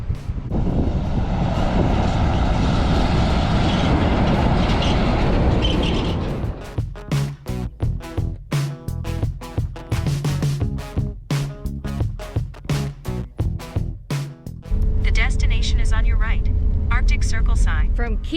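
A large vehicle rolls down a dusty road on the route toward the Arctic Circle, a loud, steady engine rumble for several seconds that breaks into choppy, buffeting roar and gusts as it passes close by.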